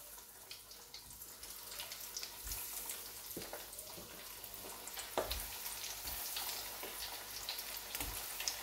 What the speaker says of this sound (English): I'm just going to fry these straight up till I get a golden covering on them